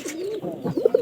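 A pet pigeon cooing close by, a short series of soft throaty coos ending in two quick pulses, with no talking.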